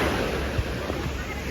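Ocean surf rushes steadily at a beach in La Union, a broad, windy wash of waves with a soft thump partway through.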